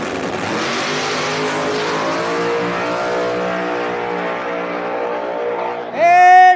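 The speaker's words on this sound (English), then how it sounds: "All right, and while I'm waiting, small tire final is Daddy Dave versus Caden Rankin, which is Chris Rankin's son." No Prep Kings drag race cars accelerate hard at a Virginia event, a loud sustained engine roar with rising revs, ending in a sharp, louder burst of high-pitched engine whine.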